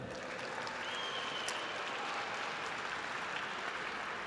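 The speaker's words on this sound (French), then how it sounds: "Est-ce qu'on peut les applaudir, s'il vous plaît?" An audience at a festival ceremony applauds steadily, a sustained patter of many clapping hands with a faint murmur of the crowd beneath.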